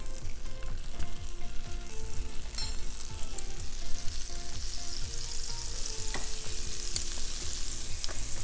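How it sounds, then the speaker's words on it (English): Six tablespoons of butter melt and bubble in a hot pan for chicken piccata with lemon butter sauce, a continuous close sizzle and crackle with light stirring, no talking. "that remaining butter, the 6 tablespoons, is going to go in and get nice and melted"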